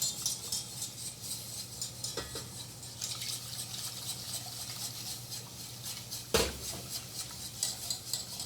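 Milk is whisked into a cheese sauce for a crab mac and cheese in a pot, making faint, soft stirring and scraping with a light metallic clink midway, quiet and close.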